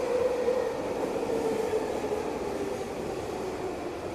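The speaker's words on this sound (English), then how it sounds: "The SkyTrain's going on." A Vancouver SkyTrain Expo Line train passes with a steady rumbling roar and a faint whine, heard at moderate distance and fading slightly over a few seconds, with no talking.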